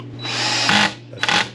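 A handheld power drill drives screws into ski bindings, one long whirring run followed by a short second burst, loud and close with a faint background hum.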